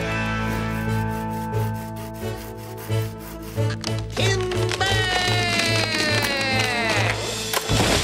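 A cartoon sawing sound effect for cutting down logs: rhythmic rasping saw strokes layered over a busy musical score, with a brief sliding squeal near the end.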